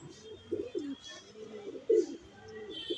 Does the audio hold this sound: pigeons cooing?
yes